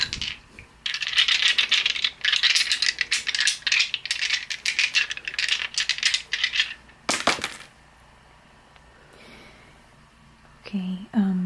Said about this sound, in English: Okay, let's do some dice.